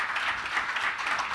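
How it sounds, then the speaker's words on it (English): Audience at a finance forum panel gives a brief round of applause, a steady mid-level patter of many hands clapping with no talk over it. "Nice round of applause."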